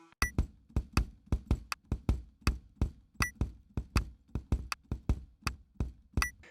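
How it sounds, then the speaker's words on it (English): Kick drum alone playing a fast pattern of sixteenth-note double strokes broken by an eighth-note double stroke, sharp punchy thumps repeating in tight pairs at a steady tempo, close and clear with no other instruments. "The kick pattern alone without the snare sounds like this."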